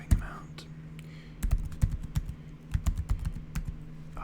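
Clattering computer keyboard typing in irregular bursts of clicks during a relaxed coding session, close and fairly quiet, with pauses between runs of keystrokes and a soft steady hum underneath.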